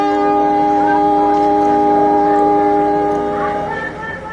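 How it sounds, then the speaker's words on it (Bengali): A train horn sound effect in a Bengali audio story sounds as one long, loud, shrill whistle-like blast with rich layered tones, holding steady before fading toward the end. "ঠিক তখনই ট্রেনের হর্নে আমার চমক ভাঙল।"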